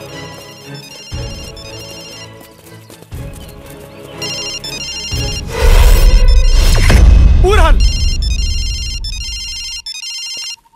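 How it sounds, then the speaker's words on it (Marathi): A mobile phone rings in a Bhojpuri film scene. A melodic electronic ringtone repeats in short bursts that grow clear near the end, after a loud crashing soundtrack swell, and a voice speaks briefly over it. "यहाँ से घंटी का आवाज आता"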